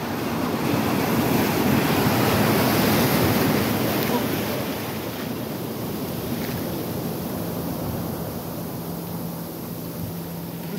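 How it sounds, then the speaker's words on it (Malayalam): Steady broadband surf and ocean wash heard from a fishing boat at sea, loud and continuous with wind noise, easing slightly after the first few seconds. "മനോഹരമായൊരു തിര ആണ്"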